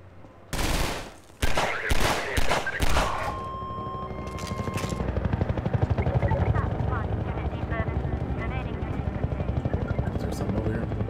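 A combat helicopter in Half-Life 2 drones with a steady, rapid rotor chop that fills the scene, preceded by bursts of loud gunfire; someone talks over the din.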